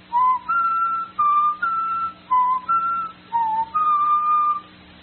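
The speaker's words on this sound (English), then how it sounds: "Let me see if I can whistle those notes written in the musical theme." Someone whistles a short melody of distinct clear notes, some held and some clipped, in a steady rhythm with brief pauses between phrases, close and alone in a quiet room.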